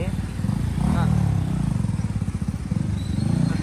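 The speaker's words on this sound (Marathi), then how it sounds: "आपली गाडी खूप आवाज मारते" A Bajaj Boxer motorcycle engine runs close by with a throbbing, rhythmic idle pulse, loud and continuous in a crowded street, with a voice briefly heard over it.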